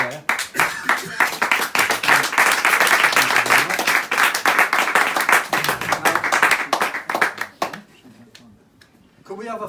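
Audience applauding at the close of a climate change presentation, loud dense clapping that swells and then thins out into scattered claps, with voices mixed in.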